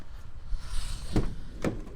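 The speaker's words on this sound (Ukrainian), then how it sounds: "глянемо, що ще відкриємо задні двері" Rear door of a 2019 Renault Trafic 2.0 van being opened, giving two short, fairly loud mechanical clunks about half a second apart over faint background noise.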